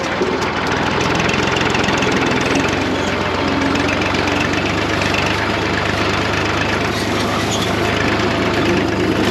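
A tractor engine runs steadily while pulling a hay rake, a continuous loud mid-pitched drone with a low rumble and no pauses.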